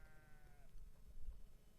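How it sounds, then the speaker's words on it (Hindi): A single bleat comes from a flock of sheep and goats grazing on a hillside above Tehri lake. It is faint and distant and fades quickly into a low outdoor rumble. "ये तमाम भेड़ बकरियां आगे तक आप देख"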